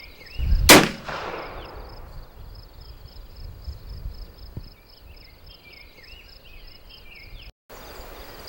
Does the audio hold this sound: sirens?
no